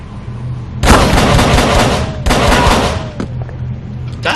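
Pistol gunfire in the Call of Cthulhu video game: two loud, harsh bursts of shooting, each lasting over a second, close and dominant over a low background hum.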